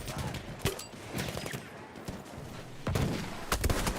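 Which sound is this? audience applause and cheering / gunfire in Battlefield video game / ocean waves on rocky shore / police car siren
gunfire in Battlefield video game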